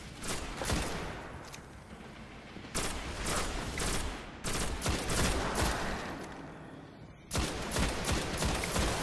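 Rapid gunfire erupts again and again in a Destiny co-op firefight in the Shrine of Oryx, with bursts of automatic shooting and sharp individual shots, loud and dense with brief lulls between volleys.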